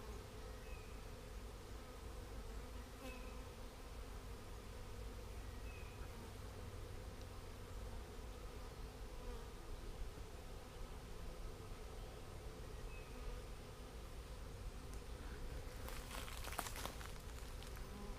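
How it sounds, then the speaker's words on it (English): A large swarm of bees held in a box hums faintly and continuously, a soft even buzz heard from a short distance with a brief rustle near the end. "So I'll bet there's probably 5 or 8 pounds of bees in that box."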